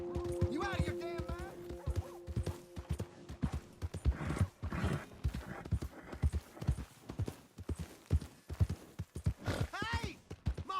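Horse hooves clip-clop steadily in the Red Dead Redemption 2 video game world, with a whinnying neigh rising near the end, while someone speaks over the hoofbeats throughout.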